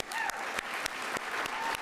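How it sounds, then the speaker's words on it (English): Warm applause from the audience at the 2024 NOSM University convocation in Sudbury, a sustained crowd of clapping hands with a few sharper individual claps standing out. "we have to owe them a warm round of applause"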